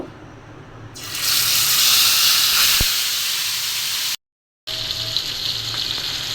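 Oil bursts into a loud, steady sizzle as fish drops into the hot pan, hissing continuously with a brief silent gap before the frying resumes.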